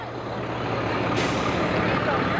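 A heavy rescue truck rolls past in a St. Patrick's Day parade, a loud, steady rumble of engine and road noise with a sudden hissing burst midway that fits an air-brake release.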